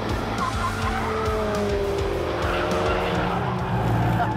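A Lamborghini LP400 and a Ford Focus RS on a race track roar steadily while their tires squeal through a skid. The sound is continuous and loud, with wavering engine pitch.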